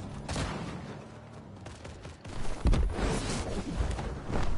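Burst of video game gunfire, a dense run of rapid shots and booms that swells and fades over a few seconds with no voices, heard from a first-person match.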